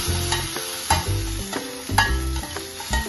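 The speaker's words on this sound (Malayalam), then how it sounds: "കറിവേപ്പില അപ്പോൾ കടുക് വറുത്ത് നമുക്കിതിൽ ഒഴിക്കാം." Mustard seeds and curry leaves temper in hot oil for a prawn curry, a close sizzle punctuated by rhythmic metallic clanks and scrapes of a spoon in the pan, repeating roughly every second, without speech.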